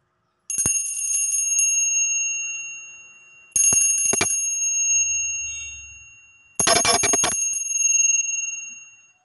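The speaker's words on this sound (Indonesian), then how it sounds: "Di sini kita akan memulai dengan ditandai lonceng berbunyi." A bright bell rings three times with pauses between, each ring loud and close, shimmering briefly before cutting off, with quiet in between.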